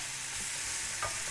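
Quiet, steady sizzling of mushrooms and onions frying in vegetable oil in a pan, with a faint stir or scrape partway through.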